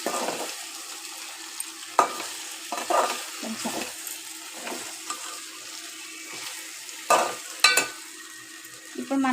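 Okra pieces fry with turmeric in a pan, a soft continuous sizzle broken by occasional scraping stirs and clinks, close and moderately quiet, with no talk.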